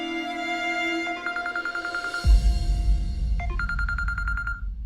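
An electronic phone ringtone plays in repeating trilling bursts, with a low rumbling noise entering partway through.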